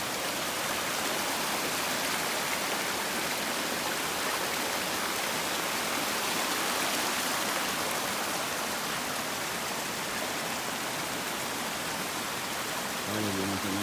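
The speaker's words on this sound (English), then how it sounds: "We're getting ready to cross this river" A clean river on the Appalachian Trail rushes in a steady, broadband wash of flowing water, loud and close throughout with no pauses, before a hiker crosses on a swinging bridge.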